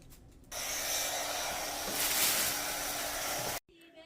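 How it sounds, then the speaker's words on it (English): A heat gun shrink-wrapping a plastic gift basket gives a steady, loud blowing hiss for about three seconds, rising briefly midway, then cuts off abruptly, with faint rustling at the end. "As you see, I'm swinging my heat gun from side to side."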